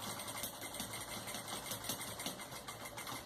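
Sewing machine stitching a patchwork handbag seam, a continuous fast mechanical whirr with rapid needle chatter, close and fairly quiet, no voices.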